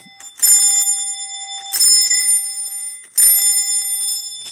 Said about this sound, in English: Ring the bell loudly. This doorbell was made when Alexander Graham Bell invented the telephone.